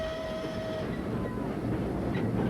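A train rolls along with a steady, dense rumble. A thin, high metallic whine fades early, and the noise holds constant throughout with no voices.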